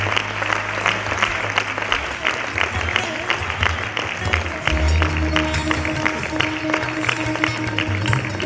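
Sustained applause from an audience at a devotional offerings gathering, many hands clapping in a dense, steady patter for about eight seconds while a low hum and faint tones sit underneath.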